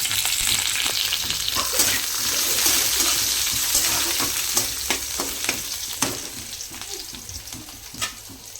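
Chopped onion sizzles steadily in a hot pan on low gas with a continuous hiss. Soft scraping stirs and light clicks come through close up, and no one is talking.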